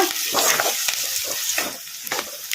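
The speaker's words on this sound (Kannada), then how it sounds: "ಉಳ್ಳಾಗಡ್ಡೆ ಒಂದು ಸ್ವಲ್ಪ ಫ್ರೈ ಆಗೋವರೆಗೂ ಫ್ರೈ ಮಾಡ್ಕೊಂಬಿಡೋಣ ಈ ಥರ ಅಂತ" Onions fry with a steady sizzle in a pan for a drumstick and ridge gourd palya, broken by repeated close scraping strokes of a spatula stirring them at a quick, regular pace.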